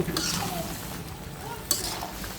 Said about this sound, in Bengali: আমি এখন একটু নেড়ে ছেড়ে দেব